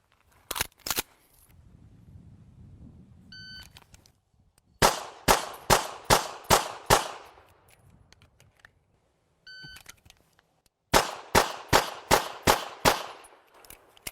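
Two strings of sharp pistol shots from a marksmanship drill, each a rapid burst of about six loud, close reports separated by a pause, with a couple of isolated shots and faint beeps at the start.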